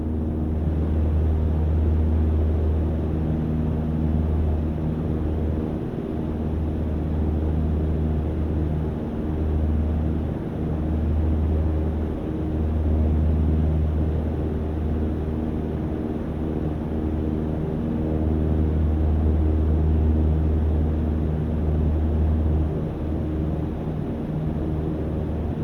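A light aircraft in a flight simulator game gliding down to land with the power at idle: a steady, droning low engine hum with a faint undulating pulse that holds level throughout, no voices.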